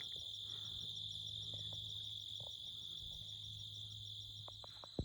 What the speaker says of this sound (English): There are some bugs.